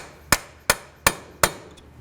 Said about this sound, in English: Next we'll use a hammer and punch, come right in the center,